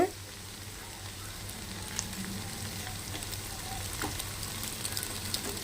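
Egg and onion fry together in a pan for chicken fried rice, giving a steady, soft sizzle with occasional crackles and a few stirring scrapes.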